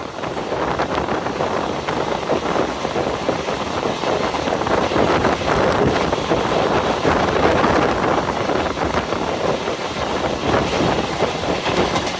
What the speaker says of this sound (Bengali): আমাদের ট্রেনটি 90+ কিলোমিটার গতিতে নিমতলা রেল স্টেশন থ্রুপাস করবে